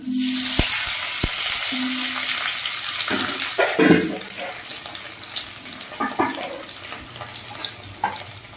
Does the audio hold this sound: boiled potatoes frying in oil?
yes